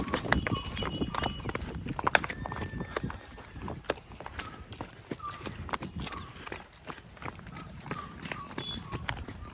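Repeated clip-clop of horse hooves on a hard surface, an uneven close rhythm, with some people talking in the background.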